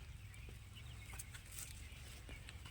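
Chickens clucking inside a poultry farm shed, a dense continuous chorus of hens with scattered sharper calls over a steady low rumble.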